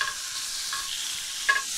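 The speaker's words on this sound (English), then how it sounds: "You can hear that sizzle." Chicken and vegetables hiss in a hot pan, a steady close sizzle with a brief louder crackle near the end and no voices.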